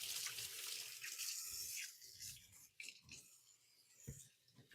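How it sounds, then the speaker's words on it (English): Hands rinsed under a running kitchen tap, a steady rushing splash of water that carries on throughout, close by and with no talking. "I'm going to give my hands a quick rinse,"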